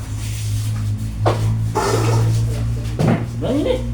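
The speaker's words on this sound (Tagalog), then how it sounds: "Mga aso." Dogs bark in a few short bursts close by in San Vicente, Cabiao, Nueva Ecija, mixed with people talking and a low engine drone underneath.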